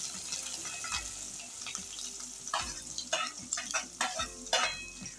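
Onion cooks with asafoetida and ginger-chilli paste in a pan, a fairly quiet sizzle under repeated clattering stirs and scrapes of a utensil.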